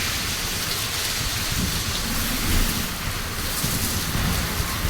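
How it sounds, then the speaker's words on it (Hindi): Heavy rain pours steadily in a strong gusting wind outdoors, a dense continuous roar of drops with rumbling low gusts swelling midway, loud and close with no talk. "तो जोर का बारिश हो रहा है।"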